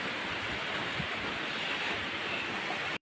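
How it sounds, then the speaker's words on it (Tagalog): Heavy rain pours down in a steady, dense hiss, loud and unbroken throughout, with no voices. "lumalakas po talaga yung ulan"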